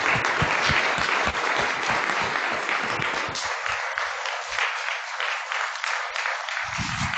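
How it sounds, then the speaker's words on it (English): An audience applauds thanking an organizer at an astronomy talk, dense clapping for about three seconds that thins into a few scattered claps and fades out. "just to give Tjitske a huge round of applause for all the months of"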